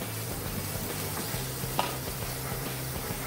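Onion and capsicum stir-fry in a pan, giving a continuous soft sizzle with a faint stirring scrape partway through.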